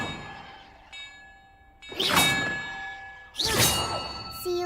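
Bells in Hogwarts Legacy give a faint lingering ring, then two loud clanging strikes about a second and a half apart, each bright and metallic with a long shimmering decay.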